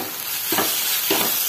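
Spoon stirring a spice mix of salt, green chili, Kashmiri red chili powder, turmeric and coriander powder in a pan for a paratha, two short scraping strokes over a soft background hiss.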